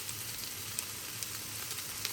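Pork belly pieces sizzling and frying in a pan, a steady dense crackle with scattered sharp pops, close and continuous without speech.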